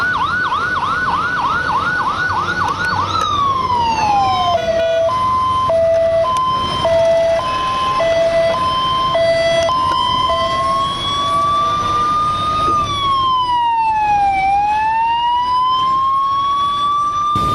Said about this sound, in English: cutting through that wail is the screech of this siren